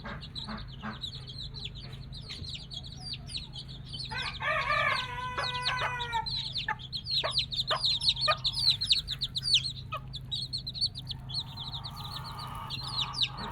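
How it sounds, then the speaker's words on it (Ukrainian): Loud quacking and honking from ducks mixed with clucking chickens nearby, a busy, overlapping barnyard chorus with no speech. "Зараз качки кричать."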